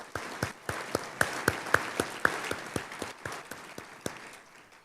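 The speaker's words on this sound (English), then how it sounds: "Let's give these folks a big round of applause as well." Applause at an annual luncheon: a regular run of distinct, close claps that start sharp and gradually soften, with a faint murmur underneath.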